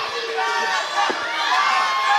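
A loud, energized crowd of wrestling fans cheers and shouts continuously at an AWF live event, with high voices and whoops layered over a dense, sustained roar.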